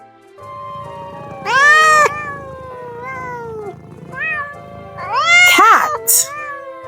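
A cat meows several times, with drawn-out, rising and falling calls, close and fairly loud, with short quiet gaps between the cries.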